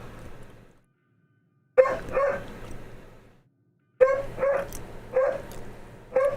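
A dog barks in short bursts of one to three sharp barks separated by pauses, fairly close and clear, with no talking over it.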